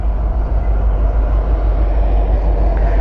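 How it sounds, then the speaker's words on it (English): A train rumbles past, a deep continuous low roar that holds steady throughout. "And we got a train coming."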